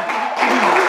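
Loud, dense audience applause at a lively entertainment show, a continuous wash of clapping that rises slightly partway through.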